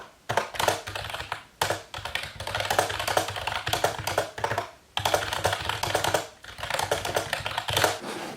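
Steady typing on a computer keyboard while a novel is written: dense, close clicking in bursts, broken by brief pauses and a few heavier key strikes.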